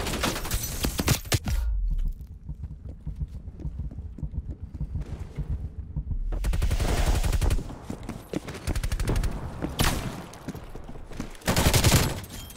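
Rapid bursts of LAPA submachine gun fire in Black Ops Cold War multiplayer crackle loudly and continuously, broken by short pauses, with footsteps and game effects underneath.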